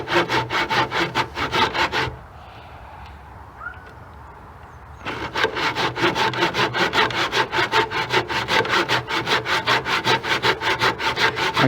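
A hand saw cuts wood trim in a miter box with quick, rhythmic back-and-forth strokes, close and loud, pausing for a few seconds of near quiet before resuming a long, steady run of strokes.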